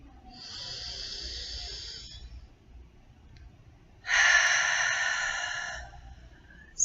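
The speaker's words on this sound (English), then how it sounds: "Inhale. Exhale." A single deep inhale followed by a long, forceful exhale during a guided breathing exercise, close and loud over a low background rumble, with no talking.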